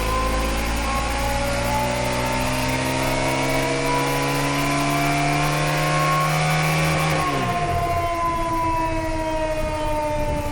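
A stock Honda CRF450RL motorcycle revs hard on a dyno, its engine note climbing in a long sustained rising whine that is loud and close, then drops sharply as the throttle closes near the end.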